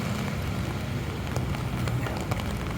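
Heavy rain falling downtown in strong wind, a steady dense hiss of drops on pavement and surfaces, loud and continuous with gusty rumble underneath.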